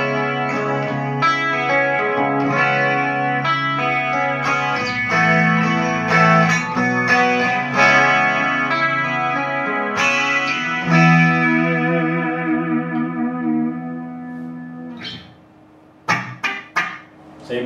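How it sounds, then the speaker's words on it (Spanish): An electric guitar through an Axe-Fx Ultra with chorus plays a shimmering melody with sustained notes, then stops, leaving a few short plucked sounds. "Seguimos viendo que es un sonido seco con el chorus agregado."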